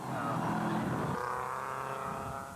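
A rally car on the Knockhill rally stage bounces up Michelin Leap, its engine loud and close, revving hard, then the pitch drops as it shifts and the sound fades slightly toward the end.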